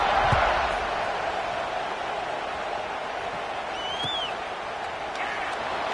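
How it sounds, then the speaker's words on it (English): Stadium crowd in the College Football 26 video game, a broad, steady roar of many voices holding at a moderate level throughout, with a faint whistle-like tone rising briefly midway. "this crowd is feeling themselves after that last drive"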